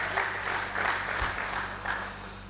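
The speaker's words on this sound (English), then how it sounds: "That deserves an applause." Applause at a university lecture for a former acting vice chancellor, a soft, steady patter of many hands heard from a distance with a faint hum underneath.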